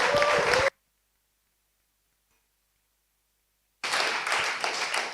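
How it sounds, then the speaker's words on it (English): An audience at a bitcoin conference in Istanbul applauds the finalists in two bursts of clapping split by a stretch of dead silence, the first short and the second fuller and sustained. "Another round of applause to all our finalists"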